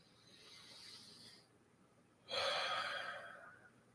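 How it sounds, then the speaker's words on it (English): A deep breath during a yoga session: a soft, airy inhale followed by a louder, rushing exhale that gradually tapers off, close and alone. "We'll just take a deep inhale and follow it with a deep exhale"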